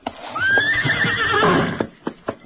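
Silver, a trained horse in an old radio drama, lets out a loud, close, rising whinny lasting about a second. A few hoof thuds follow as the horse kneels.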